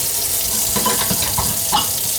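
Tap water pours steadily into a kitchen sink fitted with a new basket strainer, a loud continuous splashing hiss with small gurgling fluctuations throughout.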